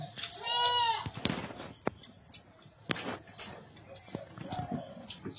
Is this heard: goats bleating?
yes